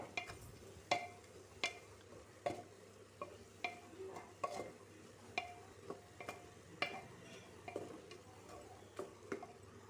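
A spatula stirs food around a pan in a regular rhythm of about a dozen scraping strokes, close and fairly quiet over a low sizzle.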